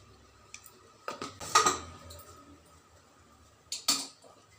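A spoon clinks against a cooking pot as coriander seed powder is added for a brinjal side dish, a few soft metallic taps and scrapes spaced out, close and quiet.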